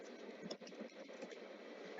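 Rapid keystrokes on a stuck computer keyboard while typing a search, a dense run of close clicks that keeps going without a pause.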